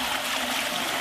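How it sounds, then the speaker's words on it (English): A toilet flush in a cubicle, with a steady rush of water running continuously at close range, loud and without any talking. "we've got some footage of a flush."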